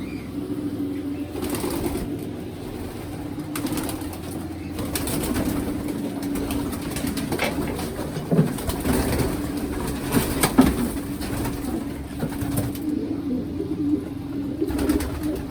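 Racing pigeons in a loft coo steadily at close range, a low continuous cooing drone with occasional wing flaps and shuffling rising above it, no voices.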